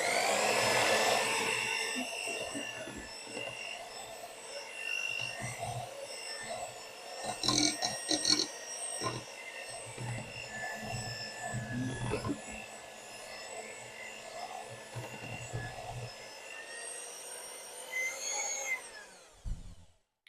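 An electric mixer churns chocolate brownie batter with a continuous whirring buzz, rising and shifting as it works, then cutting off near the end, with a voice speaking briefly.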